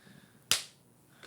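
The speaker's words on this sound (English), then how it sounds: "Let me clap now because you know what I realized? I forgot to clap at the beginning." A single sharp hand clap used to sync a recording during a podcast-style interview, crisp and close in an otherwise quiet room, with a short decay.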